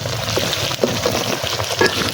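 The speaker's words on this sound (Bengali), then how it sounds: "আলু আর মুরগির মাংসটা একসাথে আমি এখন কষে নিই" Potatoes and country chicken sautéing together in a pan, a close sizzle broken by repeated scraping stirs of a spatula in an uneven rhythm.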